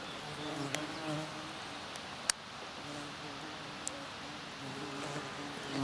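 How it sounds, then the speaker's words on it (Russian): A bee buzzes faintly and intermittently outdoors among dandelions, with a soft hum and a few light clicks or taps. "Вот она, короче, пчела-ведерница."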